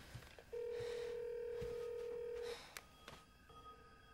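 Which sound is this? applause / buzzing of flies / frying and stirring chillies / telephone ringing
telephone ringing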